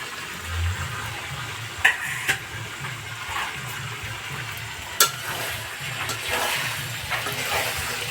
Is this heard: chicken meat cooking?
yes